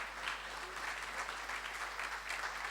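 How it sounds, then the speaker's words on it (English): Audience applauding panelists at the close of an evening board panel discussion, a steady, dense wash of clapping from a moderately distant crowd that holds evenly throughout. "A big round of applause for all of them."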